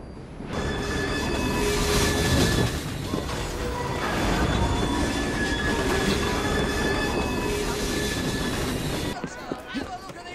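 A train in the Assassin's Creed Syndicate video game rumbles and clatters along with squealing wheels, loud and steady for most of the stretch before cutting off near the end.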